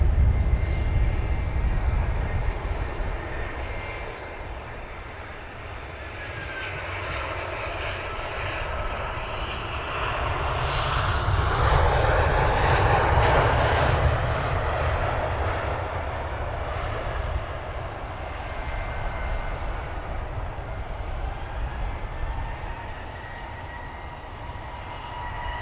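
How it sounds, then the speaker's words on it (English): Aircraft arriving at Luton Airport, a steady broadband engine roar that swells toward the middle as the plane nears, then eases while staying present throughout, with no talk. "we'll pan around to the arriving aircraft now"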